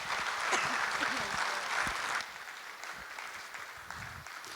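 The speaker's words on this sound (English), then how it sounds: "Let's give them one big round of applause." Applause from a school audience honoring senior athletes, a broad steady clatter of many hands that stays dense for about two seconds, then thins to a softer, scattered patter with a few voices mixed in.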